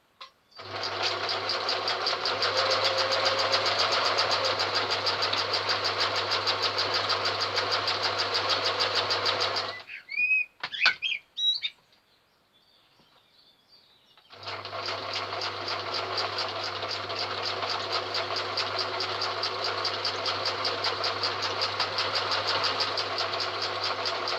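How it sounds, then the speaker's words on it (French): Sewing machine stitching a fabric protective mask along traced lines, running steadily for about ten seconds, pausing briefly with a few clicks and handling noises, then running continuously again at close range. "on coud selon les tracés"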